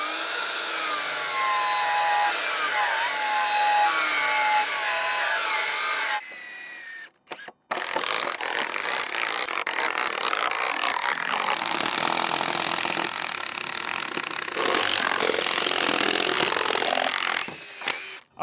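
A power saw cuts wood stock four pieces at a time to make 7.5-inch deck ledger spacers, a loud, close, continuous buzzing whine that stops briefly, restarts and runs steadily before cutting off, with no speech.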